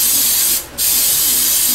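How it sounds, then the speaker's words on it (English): Loud, close hissing bursts from an aerosol can of cooking spray, pausing briefly before spraying again. "Take some spray."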